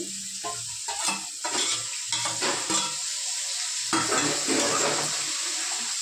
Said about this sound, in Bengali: জিরে, আদা, রসুন যে একসাথে বাঁধলাম ওইটা দিয়ে দিচ্ছি।